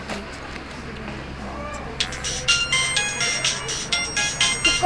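A phone ringtone starts partway through, a bright repeating electronic melody playing loudly nearby over a faint background hum.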